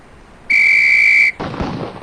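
A single sharp range whistle blast from the video game Police Quest SWAT, loud and steady for under a second, followed by a burst of gunfire-like noise.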